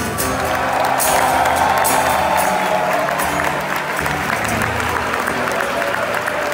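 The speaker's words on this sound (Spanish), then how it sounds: "fuerte aplauso a la candidata de Eurovisión de Letonia" Loud, sustained applause from a large crowd at a Eurovision pre-party concert fills the whole stretch, with some cheering mixed in and music faintly underneath.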